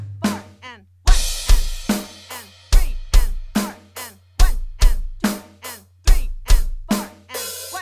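A programmed kick drum pattern thumps on beats one and three, with lighter drum hits in between, forming a steady groove that repeats for about two bars.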